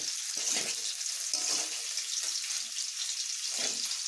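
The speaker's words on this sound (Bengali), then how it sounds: "আমি এইভাবে এটাকে আরও একটু ভালোভাবে কষিয়ে নেব" Taro curry sizzles steadily as it is sautéed in a pan, with a continuous bright hiss and occasional soft stirring scrapes and low knocks, close and alone without talk.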